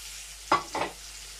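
Green chilies added to hot oil with garlic and onions give two quick scraping stirs over a faint, steady sizzle, close by, brief and otherwise quiet, with no talking.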